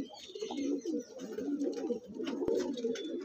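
A male pigeon with a thick cere, black-bead eyes and a curved parrot-like beak coos in low repeated phrases, fairly close and continuous, with other birds faintly around it.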